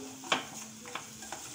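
Red chilli spice masala sautés in a pan, a soft sizzle under three quick scraping strokes of a spoon, close and quiet with no talking.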